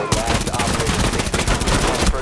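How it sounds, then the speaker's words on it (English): Rapid automatic gunfire in Rainbow Six Siege rattles on continuously at close range, loud and dense, with a brief voice mixed in underneath. "Shoot right through that drywall."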